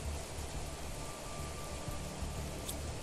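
Rain falls in The Planet Crafter video game, a steady broadband hiss of downpour with no talk over it.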